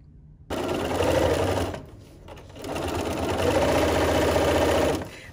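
A sewing machine fitted with a quarter-inch patchwork foot stitches quilting patchwork for a stocking, running in two steady, loud bursts separated by a short pause.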